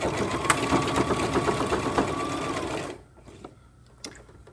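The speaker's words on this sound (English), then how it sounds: "Lifting my pressure foot and putting it back down, and then sewing right down the edge." A sewing machine runs steadily for about three seconds while stitching down the edge of a fabric face mask, then stops, leaving quiet room sound with a few soft clicks and handling noises.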